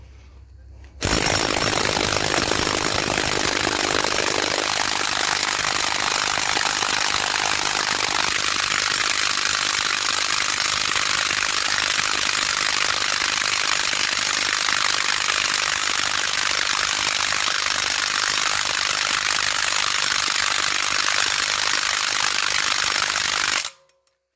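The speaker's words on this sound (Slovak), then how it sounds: "keďže tento razový úťahovák má maximálnu silu 180 Nm, vyskúšame povoliť skrutku, na ktorej je 180 Nm." A Parkside brushless impact wrench rated at 180 Nm hammers at a 180 Nm bolt to loosen it, giving a loud, close, continuous rapid rattling buzz that holds steady for over twenty seconds before cutting off abruptly, with no talking.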